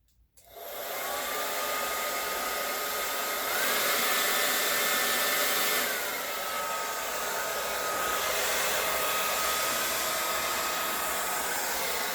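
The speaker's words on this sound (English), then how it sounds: "we want to take the blow dryer, we want to blow it back this way" A blow dryer pushes wet acrylic paint across a canvas in a Dutch pour, a loud, steady airflow roar running nearly the whole time with a slight rise and fall in pitch as it is swept back and forth.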